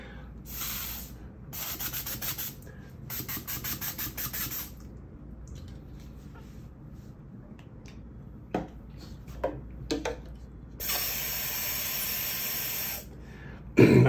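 An atomizer blows paint in gentle spatter bursts, several short hissing puffs in a row, then a longer steady spray, heard close and alone with a few light clicks between.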